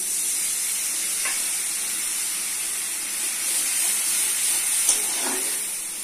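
Turmeric, salt, chili, coriander and cumin powders with water sizzle and hiss steadily in a hot pan, with a few soft scraping stirs over the continuous frying.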